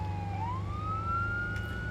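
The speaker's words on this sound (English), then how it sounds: "hence the need for the sirens" A police vehicle siren in the video game Arma 3, a single rising electronic wail that climbs and holds steady over a low engine hum.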